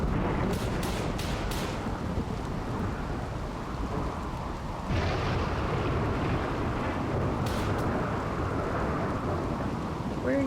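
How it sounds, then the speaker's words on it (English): Steady heavy rain with thunderstorm ambience from the video game RimWorld, a continuous loud broadband downpour that fills the whole stretch without a break. "We've got some pretty good rain noises in this game."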